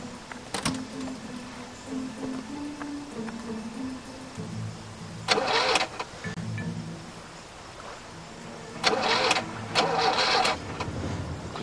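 A car engine being started with the ignition key during a roadside repair, with repeated cranking bursts, a rough idle hum between attempts and a final louder cranking stretch.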